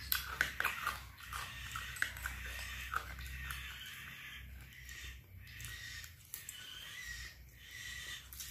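Crunchy rempeyek cracker being chewed close to the mic during an Indomie rica-rica meal, a run of crisp crackling crunches that thin into softer chewing over a quiet background.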